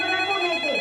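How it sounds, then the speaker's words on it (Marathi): A mobile phone rings at home with a bright, tonal electronic ringtone, loud and near, held steadily through a short burst with no talking over it. "पिंके, अगं तुझा फोन वाजतोय बघ."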